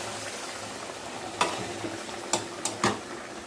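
Hot water goes into a frying shing fish curry: a steady oily sizzle in a pan, broken by several sharp clinks and splashy bursts toward the end, close and without voices.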